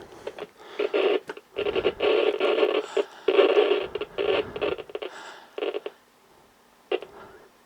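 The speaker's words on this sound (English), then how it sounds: "I think this tuning capacitor is probably damaged, which is probably why you get the noise when you turn it" Old Sony Digicube radio with a damaged tuning capacitor giving off scratchy, crackling bursts of noise as the dial is turned, coming and going in uneven spurts before fading to near silence.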